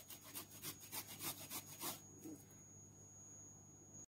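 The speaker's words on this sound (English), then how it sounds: "So, I'm gonna be grating my ginger." Fresh ginger rubbed on a grater for mulled wine, a faint, close series of rhythmic rasping strokes for about two seconds, then quiet with a thin steady tone.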